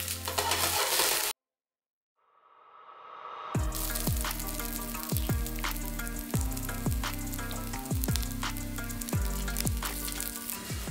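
Swedish meatballs browning in a frying pan: a loud, dense, close sizzle and crackle that cuts out abruptly into silence, then swells back up and continues with regular spitting pops.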